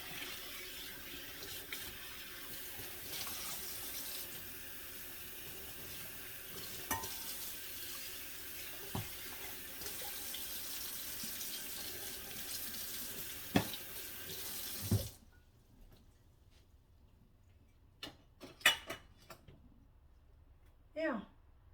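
Tap water runs hard into a kitchen sink for about fifteen seconds while dishes and a non-stick pan are washed, then stops. Scattered clinks and splashes follow, with a voice speaking now and then.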